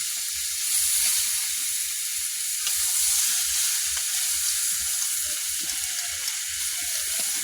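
A vegetable curry of kohlrabi, eggplant, potato and beans fries in a pan, giving a steady, close sizzle with faint stirring scrapes throughout and no talking.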